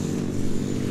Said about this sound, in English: See, this is my dirt bike. It is an XR80.